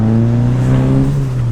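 A turbocharged Mitsubishi Lancer revs hard on the street, a loud, close engine roar with strong steady harmonics that holds for a brief burst.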